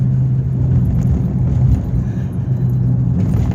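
Car being driven, heard from inside as a steady low road rumble and engine hum, with faint rattles and no talking.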